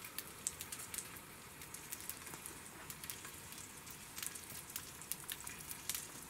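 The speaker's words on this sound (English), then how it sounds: "Ooh, it's starting to sizzle." Food sizzling on a wood-burning stove inside a hot tent while camping, a faint, steady crackle with scattered sharper pops and no talking.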